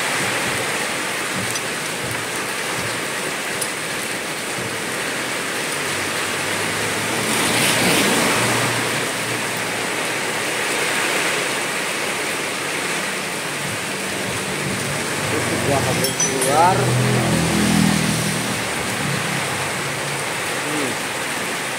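Steady rain pours down around a Honda C-series motorcycle being repaired for an engine oil seep, a broad continuous hiss with surges of heavier downpour, a low rumble and a few faint clanks.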